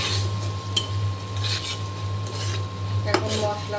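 Spices sauté in a pan under steady stirring, with a soft sizzle, metal spoon scrapes and clinks against the cookware, and a low hum throughout.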